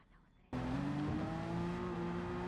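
A race car engine in Gran Turismo 7 on PS5 bursts in suddenly and holds a loud, steady, high-revving whine with a bright tonal edge.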